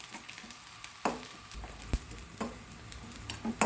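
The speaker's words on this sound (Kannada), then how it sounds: "ಈಗ 2 ಹಸಿಮೆಣಸು ಸಣ್ಣ ಕಟ್ ಮಾಡಿದ್ದು ಹಾಕಬೇಕು. ಹಾಕಿ 1 ನಿಮಿಷ ಫ್ರೈ ಮಾಡಬೇಕು." Chopped green chilies and onion fry in a pan with a constant close sizzle, broken by a few sharp clicks of a spoon stirring against the pan.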